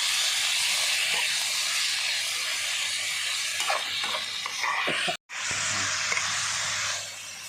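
Beef being stir-fried in a hot wok for a Thai holy basil dish makes a loud, steady hissing sizzle, with occasional scraping stirs and a brief break partway through.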